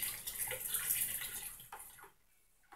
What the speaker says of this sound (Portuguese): Agora nós estaremos colocando aqui o óleo de pinho, que são 200 ml. E sempre agitando.